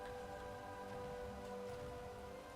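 Steady rain falls in the Undermine zone of World of Warcraft, a constant soft hiss of raindrops over a faint tonal game ambience, heard alone.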